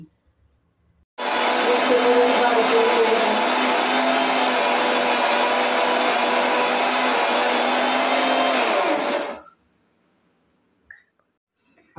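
A mixer grinder runs loud and steady for about eight seconds, whirring as it grinds chickpeas, dates and banana into powder, then cuts off abruptly, leaving near silence and a faint click.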